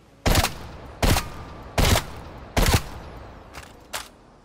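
A gun firing in Call of Duty Cold War, four loud sharp shots spaced about a second apart followed by two fainter ones, close and without speech.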